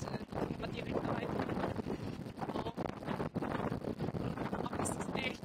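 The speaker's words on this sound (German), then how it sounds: "Aber es ist echt windig." Strong wind at Torquay, England buffets the microphone in loud, rumbling gusts, with faint voices beneath.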